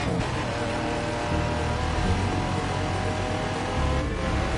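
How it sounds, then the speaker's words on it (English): Ferrari engine in The Crew 2 racing game climbing to high RPM near the upshift limit, a loud continuous revving roar with shifting pitch, close and unbroken. "that top RPM sound when you're getting to the limit where you need to upshift is the old Ferrari sound"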